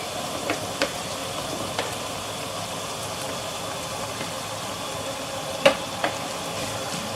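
Onion leaf and pepper sizzle quietly in a pot of okra soup with spinach, a steady soft frying hiss broken by a few faint clicks and a sharper stir clatter near the end; no voices.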